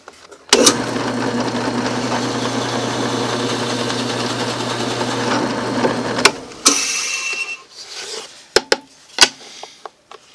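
A Forstner bit drills a hole in wood for a shop jig. A steady, close power-tool whine grinds for several seconds and then stops abruptly, followed by scattered knocks and clatter of handling.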